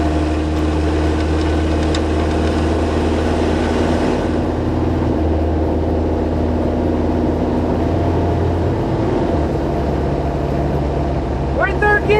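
Diesel right-hand-drive Jeep TJ engine runs steadily while the AW4 automatic transmission shifts gears, a loud continuous drone whose pitch and tone change between gears, with a person talking over it.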